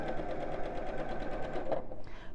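Sewing machine stitching felt for an Easter egg decoration, a steady rapid mechanical whirr of needle strokes running close and continuous for about two seconds before stopping abruptly.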